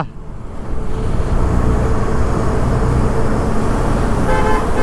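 Car horns toot over steady, loud highway traffic rumble, with a short run of honks toward the end heard from a motorbike on the road.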